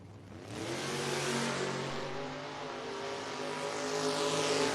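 Drag racing cars, including a Mustang, launch down a footbrake drag strip, engines roaring with rising revs as they pull away, loud and sustained with a distant, echoing quality.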